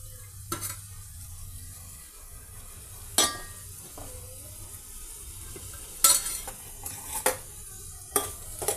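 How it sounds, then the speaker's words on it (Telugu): Onion pieces fry in a generous amount of oil for egg curry, a faint steady sizzle broken by sharp clinks and scrapes of a utensil against the pan. "ఈ ఆనియన్ పీసెస్ని ఒక 2 నిమిషాలు ఫ్రై చేద్దామండి."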